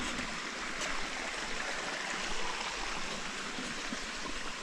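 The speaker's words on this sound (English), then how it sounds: "So calming, the water." A forest stream flows steadily along a hiking trail in the Swiss Alps near Les Paccots, a continuous broadband rush of water with no voices, even and unbroken throughout.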